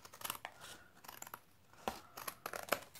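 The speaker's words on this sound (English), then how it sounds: "all I'm going to do is simply cut off the cardstock" Scissors snipping through cardstock in a series of quick, close, crisp cuts with short pauses, quiet overall.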